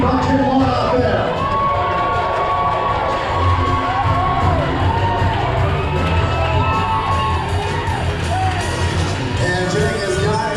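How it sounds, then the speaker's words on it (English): An excited crowd at an Alaska lumberjack show shouts and cheers without pause, children's high yells and whoops rising over the steady roar, loud and close. "Keep on cheering on out there."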